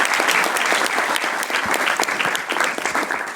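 Applause from the room at a CalSTRS Board investment committee meeting, a dense burst of many hands clapping close and steady for a few seconds.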